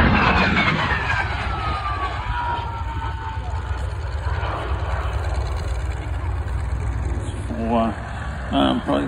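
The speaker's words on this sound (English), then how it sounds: "Jet." A jet plane passes over the classic fighters airshow at Omaka in 2023: a broad, continuous roar with a falling whine, steady throughout and heard at a distance, with some faint background noise from the crowd.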